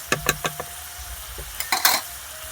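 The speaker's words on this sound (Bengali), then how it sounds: "এবার অল্প একটু জল দেবো মশলাটা কষানোর মতো, আর একটু কষিয়ে নেব।" Spice paste fries and sizzles in a pan with a little water as a spoon scrapes and stirs in several quick, close strokes, sharp bursts of hiss rising between them, with no talking.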